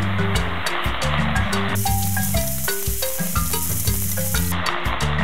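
Steady loud sizzling of Chinese cabbage leaves frying in a hot pan, with occasional stirring scrapes and clatter.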